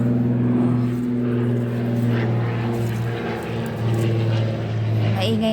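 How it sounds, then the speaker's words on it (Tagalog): An airplane passes low overhead near an airport, a loud, steady droning roar with a sustained low hum that lasts throughout and swells slightly at the end. "Maingay ng aeroplano."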